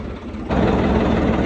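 A heavy tractor engine rumbles close by during potato digging, jumping louder after a half second and then holding a steady, throbbing drone.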